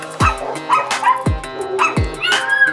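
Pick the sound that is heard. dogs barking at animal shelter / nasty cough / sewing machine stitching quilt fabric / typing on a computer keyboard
dogs barking at animal shelter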